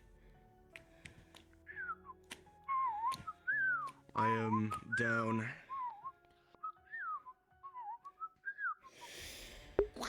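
A person whistles a wavering, tuneful melody in several short phrases across the clip, close to the microphone, with a burst of speech in the middle and brief talk and noise near the end, during a VR role-play session.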